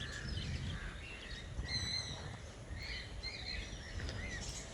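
Parrots of several different kinds in an aviary at a nature park in Surat, giving high chirps and squawks that rise over a steady bed of background noise, several birds calling at once.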